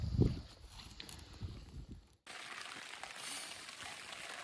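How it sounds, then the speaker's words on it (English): Light rain patters on a tent during a Dall sheep hunt in the Northwest Territories, a soft, steady hiss of drops with a few heavier thumps early on, close and fairly faint, with no talking. "We got a little bit of rain come through."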